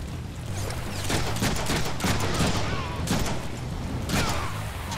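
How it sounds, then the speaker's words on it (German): Rapid gunshots crackle in repeated bursts in a Deadpool video game, loud and continuous over a rumbling game background. "Irgendwer hat da gerade geschossen."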